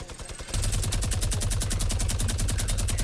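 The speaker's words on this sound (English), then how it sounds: "Who's shooting?" Rapid automatic gunfire in Fortnite rattles loud and close in a fast, even burst that starts after a brief quieter lead-in and keeps going without a break.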